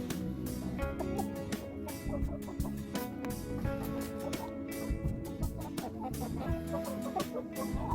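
Hens cluck in a chicken coop, with a steady run of close, busy clucks and murmurs from a few birds and no voices.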